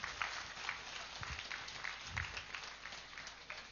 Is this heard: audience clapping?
yes